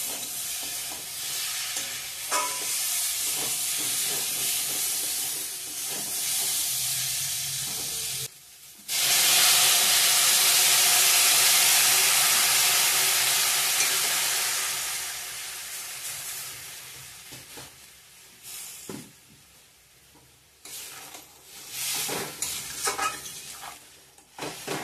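Water poured into a pan of fried cauliflower and potato for a rohu fish curry, a loud steady sizzle and hiss that cuts out briefly, bursts back strongly, then fades into intermittent bubbling and stirring.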